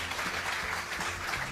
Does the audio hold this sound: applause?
yes